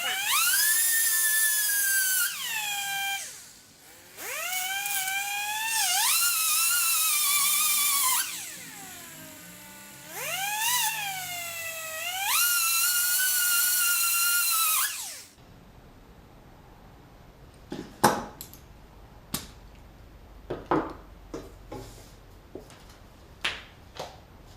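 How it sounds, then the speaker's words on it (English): A small handheld grinder grinds three sides of a bolt while removing a drill chuck, whining loudly in several bursts that rise and fall in pitch. Quieter clicks and taps follow once it stops. "A little bit of safety equipment, and a little grinder. And grind three sides."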